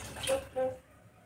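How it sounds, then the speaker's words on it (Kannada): Water poured into a pressure cooker in two short splashing bursts, the second followed by a faint fading trickle. "ಕುಕ್ಕರ್ಗೆ ಸ್ವಲ್ಪ ನೀರು ಹಾಕೊಂಡು ಹಾಕೊತೀನಿ"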